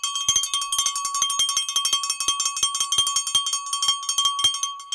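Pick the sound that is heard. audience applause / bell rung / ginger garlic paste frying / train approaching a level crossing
bell rung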